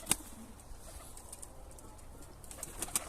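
Pigeons cooing softly in the background, low murmuring calls over a quiet room tone, with a few sharp clicks and taps near the start and end.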